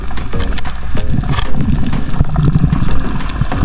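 A boat passes overhead, heard underwater while spearfishing: a continuous low, churning engine rumble with mechanical rattling and bubbly texture, steady and fairly loud throughout.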